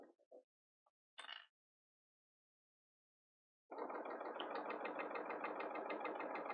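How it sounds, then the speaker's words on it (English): After a few faint clicks and a long silence, a Bernina L850/L890 serger whirs into a fast, steady mechanical hum as it trims and sews fabric over cording, running continuously to the end. "I'm going to start sewing"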